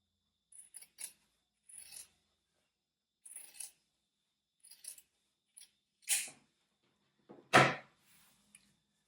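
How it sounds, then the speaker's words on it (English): Scissors snip through the fabric of a shirt in a series of short, crisp cuts separated by quiet pauses, close and alone, with two firmer, louder snips near the end. "I love that sound of scissors cutting fabric."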